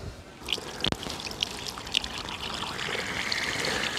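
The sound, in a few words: water pouring out of hole in BMW N62 engine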